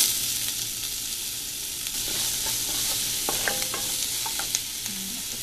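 Onions fry in oil with ginger garlic paste for a beans and shrimp dish, a steady close sizzle with scraping stir strokes and light clinks of the spoon against the pan, with no talking.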